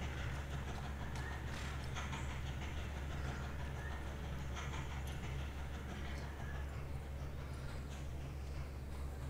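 A train runs in the railway-building video game Mashinky, a continuous rumbling roll with faint rhythmic clatter that holds steady for the whole stretch.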